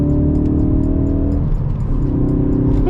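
A modified Ford Focus RS pulls hard in third gear from about 2,500 RPM on a wet road, the engine droning loud and close from inside the car, with a brief dip in the note before it climbs again.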